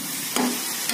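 A spoon stirs spiced masala with ground tomato in a pan over a low gas flame, giving a steady soft frying hiss broken by one brief scraping stir partway through.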